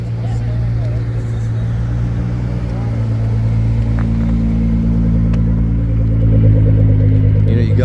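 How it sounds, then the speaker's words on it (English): A matte black Nissan GT-R drives past at a car show, its engine a loud steady low rumble that swells toward the end, with people talking over it. "GTR coming up."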